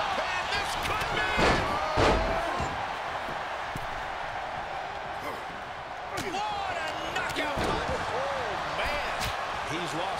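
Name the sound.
wrestler slammed onto ring mat, WWE 2K23 video game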